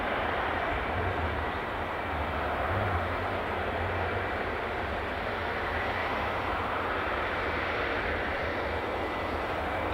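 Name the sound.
aircraft of the Bologna flight pushing back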